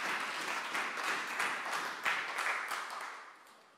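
A church congregation applauds with steady, fairly soft clapping that swells briefly and then fades toward the end, with no talking over it.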